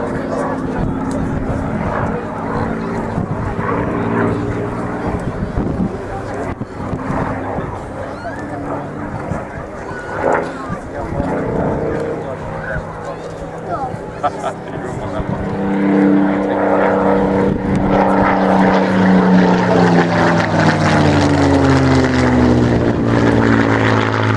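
A Spitfire propeller fighter with its wingtips removed flies at the RAF Cosford air show, giving a steady, loud piston-engine drone throughout that rises and swells toward the end as the plane passes closer, with no speech heard over it.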